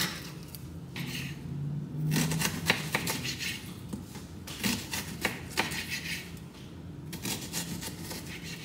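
Quick knife strokes chop an onion on a cutting board in uneven bursts, light crisp taps with soft rustling between them, fairly close.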